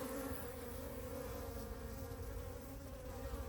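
Honeybees buzzing around a hive on a warm December day in Texas, a dense, continuous droning hum of many insects close by, steady and unbroken with no voices.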